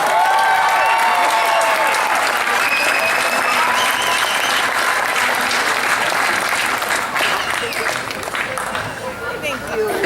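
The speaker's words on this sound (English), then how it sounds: "Please, one more round of applause." A concert audience at a Marine Corps band performance applauds, with loud, sustained clapping filling the hall and faint vocal murmur and voices mixed in, easing slightly toward the end.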